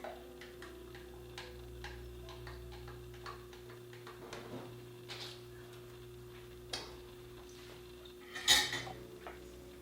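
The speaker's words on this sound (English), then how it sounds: "I'm so sad that I have to stir it up too, but I want to get all that goodness." A metal spoon clinks steadily against a glass as it stirs an oat milk shaken espresso topped with foam, quiet and close, ending in a sharper louder clink.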